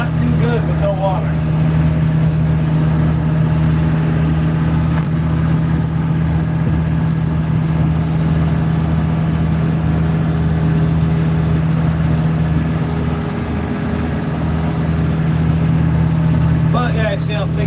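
A ride-on mower engine drones steadily throughout a ride, a constant mid-pitched hum close by, with a person talking over it.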